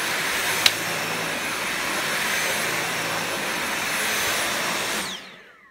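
A Dyson cordless vacuum cleaner set to max suction gives a steady, loud high-pitched whine and airy roar, holding constant after a brief click near the start, then spinning down and fading out at the end.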